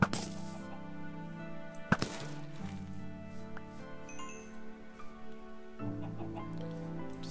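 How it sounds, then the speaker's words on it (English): Chickens in a large flock in Minecraft cluck softly and intermittently over a steady game ambience, with one sharp clicking hit standing out near the start; no one speaks. "Oh, look at this, like a giant chicken area here."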